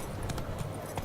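Roach, Geralt's horse in The Witcher 3: Wild Hunt, galloping with a few quick, muffled hoofbeats under a dense, steady wash of outdoor game noise.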